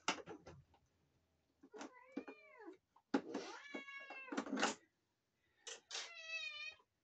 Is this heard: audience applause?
no